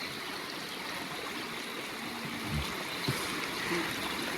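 A river running beside a riverside resting spot in Uttarakhand hisses in a steady broadband rush, continuous and fairly even, with a few faint low knocks nearby.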